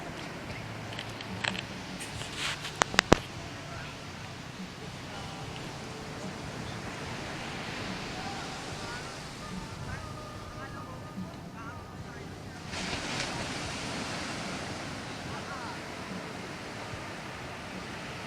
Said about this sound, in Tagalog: Ang laki ng alon ano.